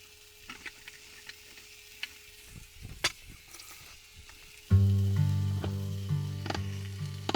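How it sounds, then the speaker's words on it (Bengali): Oil sizzles in a pan before leafy greens go in, soft crackling at first, then turning louder and steadier about halfway through as a droning hum joins, with occasional light clicks and no talking. "এবার এটাকে একটুখানি কোক হতে দেবো ভালো করে ভাজা হবে তারপরে শাকটাকে অ্যাড করবো"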